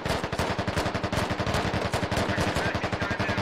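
Heavy machine gun fire in the military shooter game Squad: one continuous, loud, rapid burst of evenly spaced rounds, close by, with no talk.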